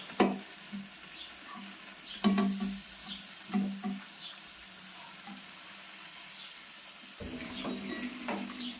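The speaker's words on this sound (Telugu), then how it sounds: "ఇలా మెల్లగా కలుపుకోవాలి ఫిష్ పీసెస్ని, లేకపోతే విచ్చిపోతాయి ఫిష్ పీసెస్" Fish pieces gently stirred in a simmering Nellore-style fish curry, soft scattered scrapes and light stirring noises over a faint steady bubbling, close up.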